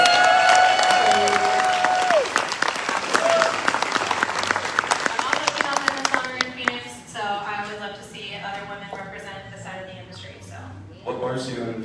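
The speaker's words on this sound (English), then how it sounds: "let's give an extra special round of applause for a female business owner over here" A bar or event crowd at a rum tasting bursts into loud applause and cheering for a female business owner, dense clapping for about six seconds before fading into scattered claps and talk.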